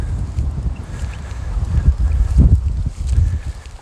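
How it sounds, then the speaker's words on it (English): Strong wind buffets the microphone in low, uneven gusts that swell and fade over a few seconds. "It's really windy, guys, hope the mic cuts this out."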